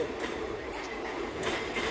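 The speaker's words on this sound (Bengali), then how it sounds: "আর দেখেন লোকাল ট্রেনে যেতে কীরকম হয়ে গেছে" A local train at a railway station platform gives a steady, close rumble and hiss of rolling rail cars, with faint brighter clatter swelling briefly near the end and no voices.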